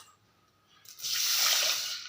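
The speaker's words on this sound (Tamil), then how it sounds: "இப்போ இந்த கப்பால் 4 கப்பு நான் தண்ணி ஊற்றிக்கிறேன்" Water poured from a cup into a pressure cooker, a steady splashing pour that starts about a second in and runs to the end, close and moderately loud after a quiet lead-in.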